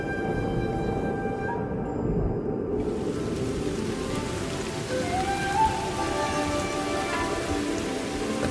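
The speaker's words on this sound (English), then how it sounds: "But this is no spring shower. It's a gully washer." Heavy rain pours down in a dense, continuous hiss, a drenching desert downpour that stays steady and loud throughout with no talking.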